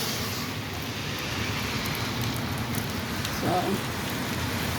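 Steady rain falls outdoors on a New York City street, an even, dense hiss of drops with a brief word spoken over it.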